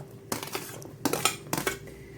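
Chopped onion and garlic tipped into a metal pot for Jamaican brown stew fish: three separate bursts of clattering and scraping against the pot, close and fairly loud, with quiet gaps between them.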